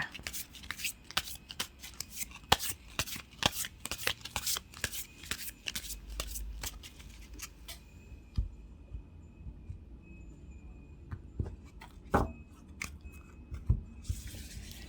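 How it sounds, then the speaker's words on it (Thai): Tarot cards being shuffled by hand, a rapid run of crisp riffling clicks for several seconds, then a quieter stretch with scattered single card snaps and taps, close up. "ขออนุญาตสับไพ่สักครู่ค่ะ"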